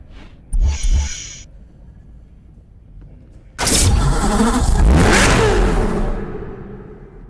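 Chevrolet Corvette ZR1 V8 in the Need for Speed Hot Pursuit video game, a brief blip of engine noise followed by a loud, sustained rev that swells and slowly fades.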